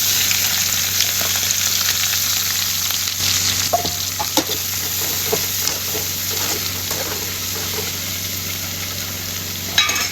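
Steady, close sizzling of onions frying in a hot pan, with occasional soft scraping and stirring sounds and no talking.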